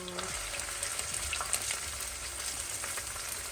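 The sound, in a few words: green pepper frying in pan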